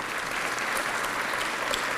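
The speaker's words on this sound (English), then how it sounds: "That deserves itself a round of applause," Steady, dense applause from a conference audience celebrating an osteoporosis charity's 30th anniversary, a full room clapping continuously and evenly throughout.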